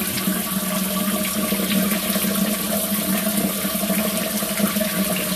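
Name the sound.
rain shower running water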